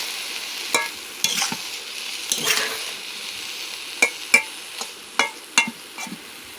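Half-cooked vegetables, ridge gourd among them, stirred in a pan over a low sizzle, with a series of sharp scrapes and clinks of the spoon against the metal spaced through the stretch.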